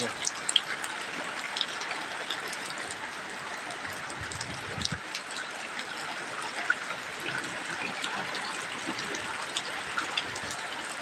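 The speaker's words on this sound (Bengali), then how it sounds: "আবার ঝড় শুরু হয়েছে" Heavy rain pours during a storm, a steady, even hiss of falling water that runs unbroken throughout at a fairly soft, distant level, with no voices.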